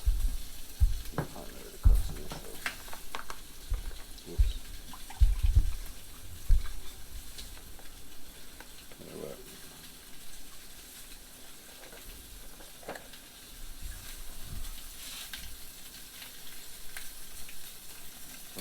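Chopped onions, garlic and beans sizzle in a pot over an outdoor firepit, a steady close frying hiss with clattering knocks and stirring early on, then a softer even sizzle.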